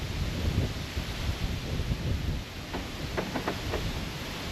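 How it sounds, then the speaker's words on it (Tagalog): Strong wind in New Zealand roars steadily across the microphone, a broad rushing buffet with a few brief rustling bursts near the end. "ang lakas ng hangin, oh. Mahangin talaga siya."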